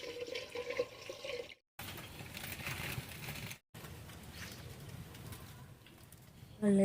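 Water poured into a cooking pot for rice in a village kitchen, a splashing stream broken by two short silent gaps, with a faint bird cooing in the background.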